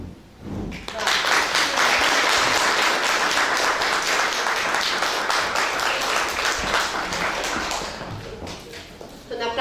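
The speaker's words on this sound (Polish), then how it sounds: "naprawdę gorące brawa" After a brief pause, an audience breaks into loud, dense, sustained clapping for a children's performance at a Polish May 3rd celebration, the applause holding strong to the end.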